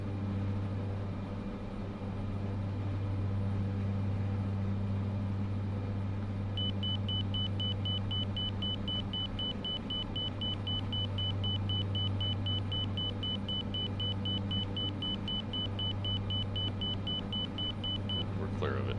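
A cockpit warning in Microsoft Flight Simulator 2024 beeps in a rapid, evenly spaced series of high tones for about twelve seconds over a steady low engine hum, while a voice talks intermittently.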